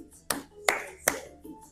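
Four crisp hand claps ring out in an even rhythm, about 0.4 seconds apart, during a salsa dance count, close and clear, the last one softer.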